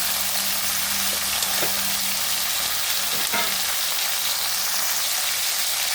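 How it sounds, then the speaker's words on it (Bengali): Cauliflower fries with salt in a pan, a dense, even hiss of sizzling oil throughout, with a few faint scrapes from stirring, close and without talk. "নেড়ে দিলাম নুনটা দিয়ে।"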